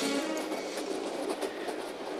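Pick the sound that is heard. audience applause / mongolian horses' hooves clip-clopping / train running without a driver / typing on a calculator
train running without a driver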